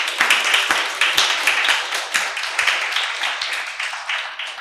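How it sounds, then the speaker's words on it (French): Clapping from a small audience at a live-streamed aperitif talk event, a few close, individual hand claps standing out over a steady patter, continuous and fairly loud throughout. "On peut les applaudir aussi."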